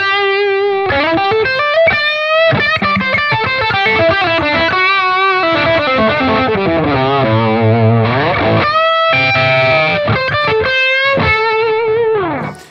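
A loud, heavily distorted electric guitar plays a sustained, wailing solo with bends and vibrato, ringing out continuously before cutting off at the end.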